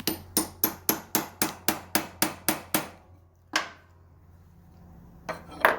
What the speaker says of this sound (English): punching my horribly welded shift bracket